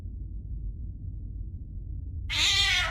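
A cat meows once, loud and close, near the end in the horror game Nightmare Of Decay, after a stretch of low steady rumbling background ambience.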